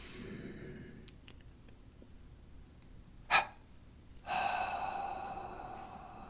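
A person inhales deeply during a guided meditation, a long, airy breath drawn in close to the microphone after a short sharp intake, in an otherwise quiet room.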